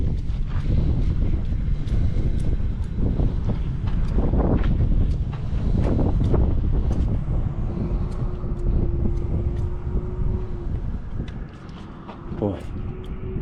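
Steady outdoor wind buffets the microphone throughout, a continuous low roar near a machine shop, with a few faint knocks and a brief hum mixed in.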